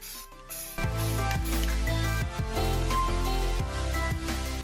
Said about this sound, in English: So let's get this stuff primered and painted.